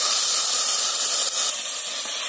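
Ground spice paste sizzling in hot oil along with bay leaf, cumin and slit green chillies, a loud, dense, steady hiss close to the pan.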